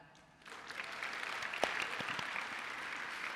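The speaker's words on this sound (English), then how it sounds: "How many people here, just by clapping your hands, have had the chance to go to Alaska?" A conference audience in a large hall claps hands in sustained applause that starts abruptly and holds steady, fairly distant and diffuse, with no talking.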